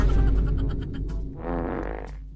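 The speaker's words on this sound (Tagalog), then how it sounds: "Umutot ako." In a classroom comedy skit, a loud, long, buzzing fart lasts about two seconds, up close and with no talking over it.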